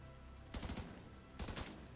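Automatic weapon fire in The Division 2 comes in two short rapid bursts of shots, each lasting about a third of a second and separated by a pause, over a steady background of game ambience.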